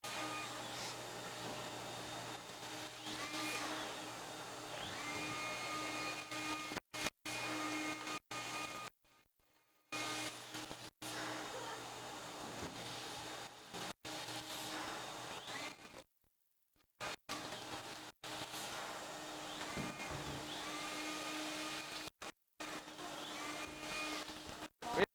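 A vacuum cleaner runs over a sanded epoxy skim-coat floor at a workshop, a steady mid-distance motor drone broken by a few abrupt cutouts and brief silences, with faint voices in the background.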